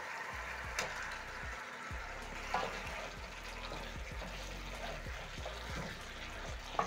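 Chicken sizzles in tomato sauce in a hot pan for a saucy, buttery chicken stew, a steady close hiss with scattered crackles and a few louder pops and clinks.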